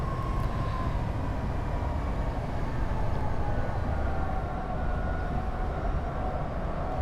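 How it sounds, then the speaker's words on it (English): An American passenger train on the Irvine to Oceanside Pacific Surfliner route in Train Simulator 2015 coasts with its power idled. It makes a steady rumbling roll with a faint tonal whine, even and sustained throughout, with no voices. "I'm going to idle the power and allow the train to coast"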